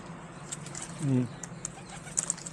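A pigeon gives a single short, low coo close by in a park, over faint outdoor background noise with a few light ticks and rustles.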